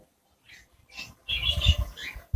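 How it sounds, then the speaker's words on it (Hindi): A bulbul at its nest in summer breeding season gives a few short, high chirps close by, followed by brief rustling and soft patter. "तो ये जो पंछी है बुलबुली पंछी बोलते हैं इसको"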